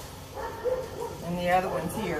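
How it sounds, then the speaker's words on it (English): A dog barks a few times in the background while someone talks over it in a home setting. "sorry for the barking dog in the background"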